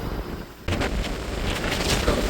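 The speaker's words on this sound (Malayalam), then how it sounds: "നല്ല കാറ്റാണ്." Strong wind on a hilltop at Ramakkalmedu near a wind farm, gusting loudly against the microphone after a brief quieter moment, as a steady roaring rush with no talking.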